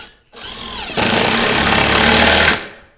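A power drill drives 1 5/8-inch screws into a sanded wooden piece: one loud, close whir that spins up, holds steady for about a second and a half as it drives, then stops.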